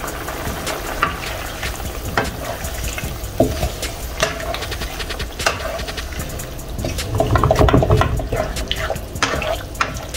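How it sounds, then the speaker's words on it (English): Spicy pork belly adobo with boiled eggs stirred in a pan, a utensil scraping and clinking against the metal over a steady sizzle that swells louder near the end, with no talking. "I put half and we're gonna stir."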